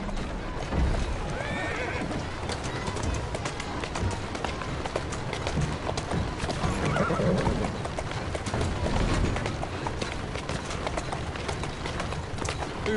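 A horse whinnies over steady clip-clopping hooves in a continuous, busy soundscape from the game Assassin's Creed Syndicate, with no talking.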